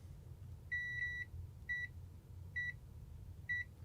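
Continuity buzzer of a newly bought multimeter beeping four times, short high electronic tones spaced about a second apart, clear over a faint background hum.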